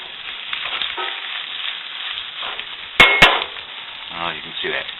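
Eggs fry in a well-seasoned cast iron pan with a steady soft sizzle, broken by a couple of sharp metallic clanks of a utensil against the pan.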